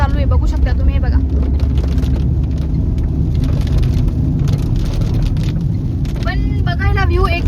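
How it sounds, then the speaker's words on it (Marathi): Heavy rain pours steadily on a car driving through dense forest, a constant close hiss and rumble under people talking throughout. "आणि पाऊस सुद्धा खूप जोराचा चालू आहे, बघू शकता तुम्ही"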